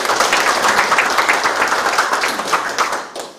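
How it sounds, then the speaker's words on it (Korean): An audience at a town hall meeting with the city mayor claps together, a lively burst of many hands that stays strong and then begins to thin toward the end. "이러한 방향에 동의를 해주시면 박수 한번 해주십시오"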